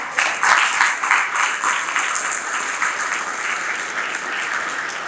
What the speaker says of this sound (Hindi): मेरी इन अंतिम पंक्तियों पे जरा तालियों की गूंज के साथ गौर कीजिएगा।